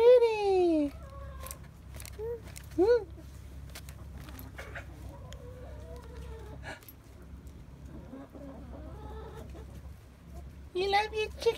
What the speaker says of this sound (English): You love your chickies?